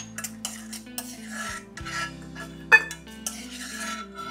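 Cashews and almonds frying in hot ghee in a pan, with a spoon clinking and scraping as they are stirred; sparse metallic taps and scrapes, close and quiet, with no talking.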